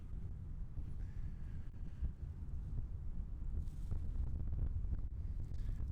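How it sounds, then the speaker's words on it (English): Steady wind buffets and rushes across an open lakeshore in Algonquin Park, a constant low roar with gusts swelling near the microphone, no voices heard. "A little windy right now"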